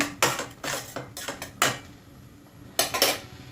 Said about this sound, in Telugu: కొంచెము ఇట్లా స్మాష్ చేసుకోండి